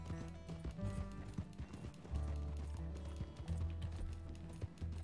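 Rhythmic horse hooves clip-clop at a quick pace in Red Dead Redemption 2, over layered game music and hum, with a faint voice briefly in the mix.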